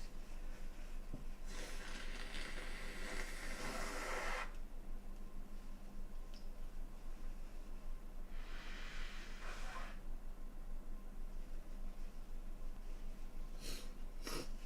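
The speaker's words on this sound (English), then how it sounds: "Blow her nose." Two long, noisy nose blows, close by, separated by a pause, over a steady low hum, with a brief sharp snort near the end.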